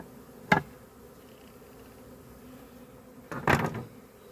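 Honey bees from a swarm being moved into a permanent hive box buzz close to the microphone in two short, loud bursts over a quiet background.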